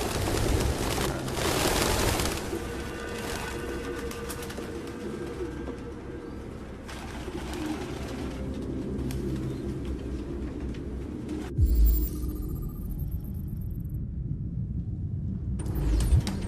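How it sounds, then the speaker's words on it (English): Pigeons coo and flutter inside a run-down apartment in the video game Detroit: Become Human, a steady, fairly close bird chorus over low room noise, with a couple of brief knocks near the end. "No human could live with all these fucking pigeons."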